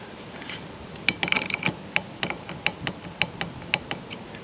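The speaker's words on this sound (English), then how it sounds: "I have this set to 8 Newton meters, and I'm going to go ahead and torque this down." A torque wrench tightens the rear wiper arm on a BMW X5 E70, a close series of crisp ratcheting clicks in an even rhythm, about a dozen sharp ticks over a quiet background, with no talking.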